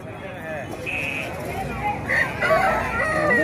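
A rooster crows amid the bustle of a chicken market in Mydukur, with several tonal calls rising over steady crowd noise and people talking nearby.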